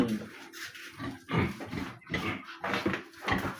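A hungry pig grunts and snorts in a quick run of short, close, moderately loud bursts, with no talking over it.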